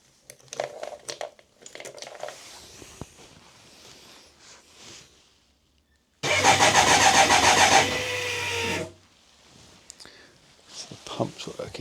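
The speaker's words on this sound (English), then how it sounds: "So the pump's working now." Electric fuel pump on a BMW K100 motorcycle running with a steady, loud, dense buzzing hum for about two and a half seconds, cutting in and stopping abruptly, between stretches of quieter speech.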